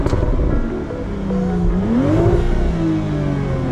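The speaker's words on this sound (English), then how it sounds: "I'm gonna give y'all a rev with the window down" A warmed-up sports car engine, a Honda Civic Type R FL5 or Toyota GR Supra MK5, revved with the window down: a loud steady idle climbing into a quick rising rev, then settling back to a droning hum.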